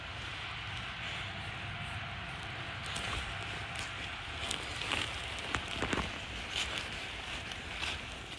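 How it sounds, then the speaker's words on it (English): Steady rain patters across wet leaves in woodland, a soft constant hiss with occasional sharper drips and rustles close by. "And we're off, and it's raining."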